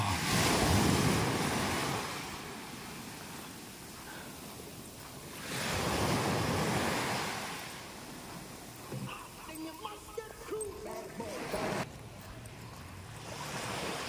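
Ocean waves washing in at a beach in Puerto Galera, two broad swells of surf with wind noise on the microphone, and faint voices and activity in the background between them.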